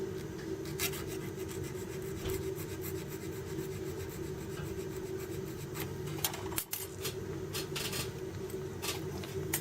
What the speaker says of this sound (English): Sometimes it takes a little bit more filing than others